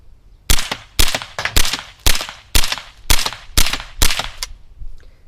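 Eight sharp cracks from CCI Quiet .22 rounds fired through a semi-automatic gun, spaced roughly half a second apart, each a loud broadband snap with a short decay, outdoors with no talking.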